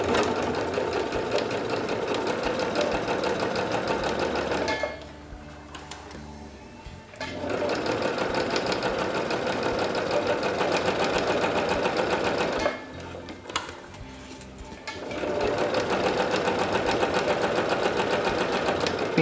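A sewing machine stitches a seam for an open or French seam, giving a steady close-up whirring run that stops briefly twice before resuming at an even pace.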